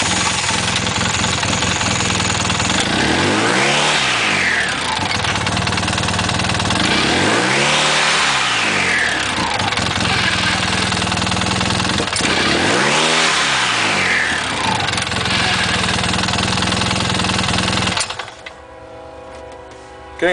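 The engine of a 2009 Polaris RZR revs three times as the primary and secondary clutches engage and spin, each loud rise and fall close by, before it drops to a quieter idle at the end.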